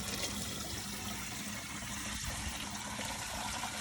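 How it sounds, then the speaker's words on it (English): Blanched broccolini and water are poured into a kitchen strainer, a steady, close, full splashing rush that runs on without a break and with no talk. "pour that in a strainer"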